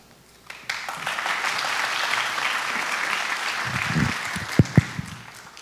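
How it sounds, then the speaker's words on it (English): Audience applause at an elementary school back-to-school night, a broad steady wash of clapping that starts abruptly and holds for several seconds, with a few louder individual claps near the end as it fades. "I don't know whether that applause was for Damien leaving or me getting on the stage"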